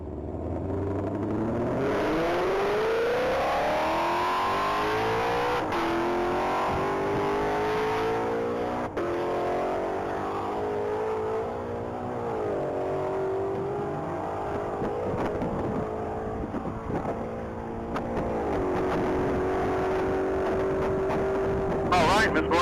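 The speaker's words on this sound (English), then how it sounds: "Good speed under that 2020 Ford Mustang" A white 2020 Ford Mustang GT500 accelerates hard on a mile-long top-speed run, its engine note climbing steadily through the gears with loud, sustained revving and brief shift breaks, under commentary.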